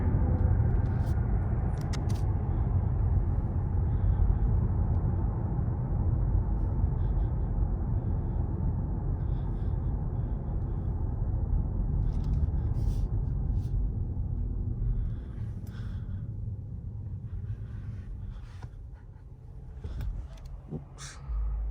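A BMW i7 electric car produces a low, steady rumble of tyres and road noise from inside the cabin while driving, with scattered small clicks and knocks and a drop in level partway through.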